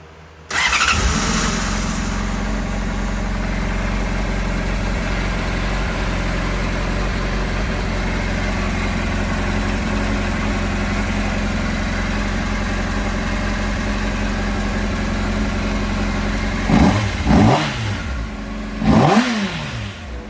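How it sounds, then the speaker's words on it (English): A Honda CBR600RR sport bike with a cold-crank no-start fault catches and runs, settling into a loud steady idle close by for most of the stretch, followed by a couple of brief revs near the end. "We got pressure again, and now the bike is also running."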